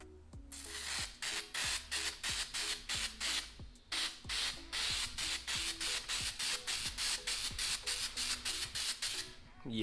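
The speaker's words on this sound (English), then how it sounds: "Let's go ahead and see if it sprays any better." Rapid repeated bursts of a Jacquard YouCan refillable spray bottle, short hissing sprays with mechanical clicks in an uneven rhythm, close and fairly loud with no talk.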